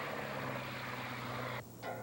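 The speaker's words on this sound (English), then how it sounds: "Here he is, strapped into a biplane." A biplane engine drones steadily in flight, a continuous close roar with a low humming tone that briefly dips near the end.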